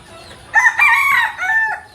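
A rooster crows once on a poultry farm where hens are kept for eggs, a loud, close, drawn-out call of about one and a half seconds with no talking over it.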